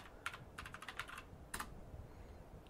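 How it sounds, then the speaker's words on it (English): A password typed on a computer keyboard: faint, quick key clicks in short bursts at close range in a quiet room. "Type in our password there."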